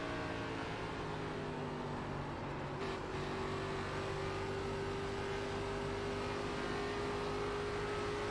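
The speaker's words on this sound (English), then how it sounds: "Like white noise from the car, the motor constant, heat's on." A race car engine in the iRacing sim at Homestead drones at a constant, steady pitch, a continuous unbroken hum filling the whole stretch with no other sounds.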